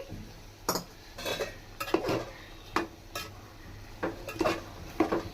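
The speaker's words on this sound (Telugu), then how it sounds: "ఇలా ఈ విధంగా చింతపండు రసం మొత్తం బాగా కలిపేదాకా మేము కలుపుకుందాం" A spoon stirs tamarind juice into okra curry in a pan, giving a run of separate scraping, clinking strokes against the metal in an irregular rhythm, close and moderately loud with a faint sizzle beneath.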